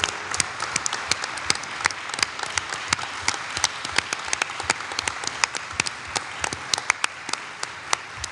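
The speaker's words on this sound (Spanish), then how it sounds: "Pido un gran aplauso para él." Sustained applause from an audience at a cultural event in a hall, many hands clapping in a dense, steady patter with a few sharper claps standing out, continuing without pause throughout.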